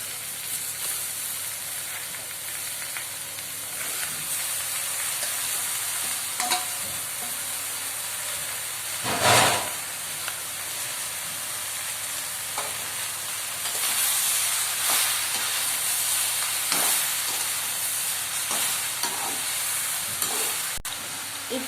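Bottle gourd and turmeric fry in a pan for a gourd and fish curry, giving a steady close sizzle and hiss with occasional scrapes and clatters from stirring. One louder burst comes midway, and no one speaks.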